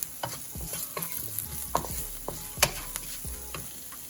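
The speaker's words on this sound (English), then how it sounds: "make sure you're still continuing to stir throughout the process." Seasoning frying in oil in a pan is stirred steadily, with repeated close scrapes and clinks of the utensil over a constant sizzle.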